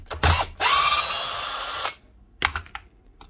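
A ratchet clicks rapidly while loosening tight bolts on Makita, DeWalt or Paslode power tools, a loud close burst of ratcheting followed by a few shorter clicks and a pause.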